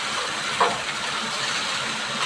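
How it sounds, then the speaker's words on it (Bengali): Potatoes fry with chillies in a pan at home, making a steady close hiss and sizzle. One short scrape of stirring comes early on, and there is no speech. "আলুগুলো দিয়ে এর সঙ্গে সুন্দর করে আমি লাল লাল করে ভেজে নেব।"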